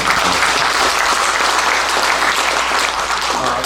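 An audience at an academic society conference bursts into loud, sustained applause, a thick, continuous patter of many hands clapping at full strength for the entire span.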